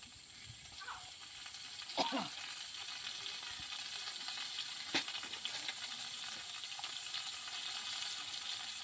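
Onion, garlic and green chilies sizzle in mustard oil in a pan, a soft steady hiss with a few faint stirring scrapes and knocks close by.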